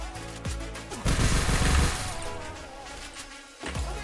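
Rapid gunfire from a mobile shooter game, a dense burst of automatic shots swelling loud for about a second, then fading into scattered shots and game noise before a second volley starts near the end.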